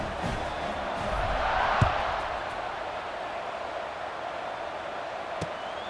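Stadium crowd noise in EA College Football 26 during a Wisconsin dynasty game, a steady broad roar with swells as the kickoff unit takes the field, plus a couple of sharp thuds near the start and end.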